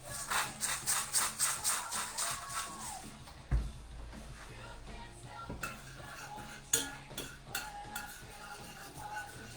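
Cutlery and dishware clinking as a spoon stirs a sauce mix with Worcester sauce and salt in a kitchen; a run of quick rhythmic scrapes and taps up front, then scattered sharper knocks and clatters, fairly close and without talk.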